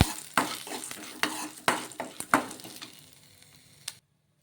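Green chillies and lentils being stirred in a pan for chutney, a series of close scraping and clattering strokes over a soft sizzle that fades toward the end.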